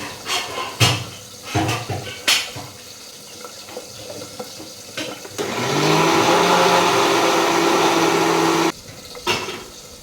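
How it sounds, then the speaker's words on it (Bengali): A mixer grinder blends oats and curd into a paste, a loud whirring roar lasting about three seconds after scattered clatters and knocks in a kitchen, with no talking. "তারপরে মিক্সিতে একটু পেস্ট করে নিই"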